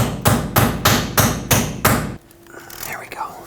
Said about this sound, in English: I'm going to hammer an extractor socket on it